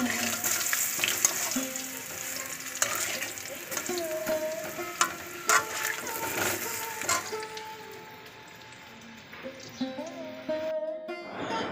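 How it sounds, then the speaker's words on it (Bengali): Potato pieces frying in hot oil in a wok, a steady close sizzle with occasional scrapes and clinks of stirring throughout. "আর এদিকে আলুগুলো ভেজে নেব লাল লাল করে"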